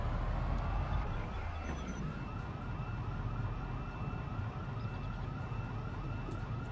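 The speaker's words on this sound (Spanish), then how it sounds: "El camión de bomberos." A modded fire truck in a video game wails its siren in a repeating up-and-down sweep that carries steadily from start to end over background game noise.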